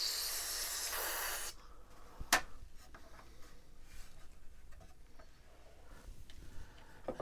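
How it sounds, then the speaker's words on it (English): Contact cleaner is sprayed into the cartridge port of a TRS-80 Color Computer 2: a loud, close, steady hiss for about a second and a half, then it cuts off to quiet handling noises and a single sharp click. "And now a little bit of contact cleaner in the cartridge port."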